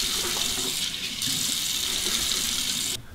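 Hot water runs steadily from a bathroom tap into a sink to warm the face before a shave, a loud, constant close gush that drops off sharply near the end.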